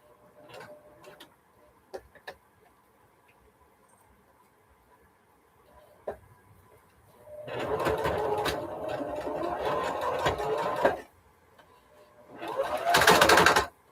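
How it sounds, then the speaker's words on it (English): Sewing machine stitching a rope basket, its bobbin thrashing around: a few isolated ticks, then a loud, steady mechanical rattle for several seconds, a pause, and a second loud burst. "Sound like my bobbin's thrashing around."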